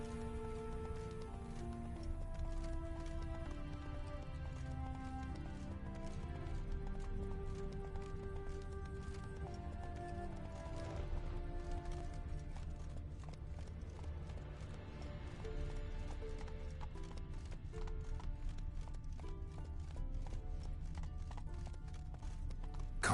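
Roach the horse trots along in a video game, soft hoof clops and a faint whinny sitting low beneath a steady, sustained orchestral music bed that dominates throughout.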